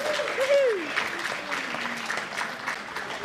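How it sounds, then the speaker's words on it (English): An audience at a guide dog graduation applauds, a steady wash of clapping from a small crowd, moderately loud and sustained throughout, with a brief voice near the start. "Give him a round of applause."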